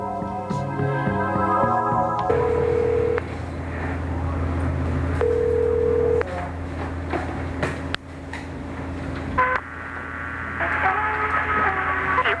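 Telephone dialing tones beep in quick succession, followed by a long steady tone and a number-not-in-service notice, heard over a low hum on a late-1990s Korean phone line.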